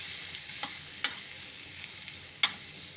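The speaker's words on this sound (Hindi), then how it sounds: "आलू के स्लाइसेस डालने के बाद हम इसमें अच्छे से मिला देंगे।" Potato slices being stirred into a cooked red masala in a pan for halwai-style aloo sabzi, a soft steady sizzle with a few light spoon scrapes and clinks over about three seconds.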